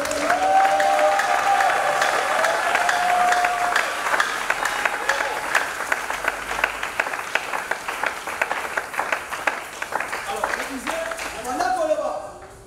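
A church congregation applauding and cheering for the Lord during a family deliverance service, loud sustained clapping mixed with shouts and voices that fades near the end.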